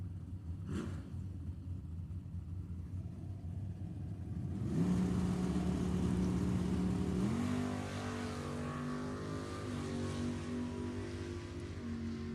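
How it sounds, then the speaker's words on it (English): A drag racing car at Sacramento Raceway Park accelerates hard through the gears, a distant engine roar that climbs in pitch, drops at each shift and climbs again over a steady rumble. "Kirkman going through the gears"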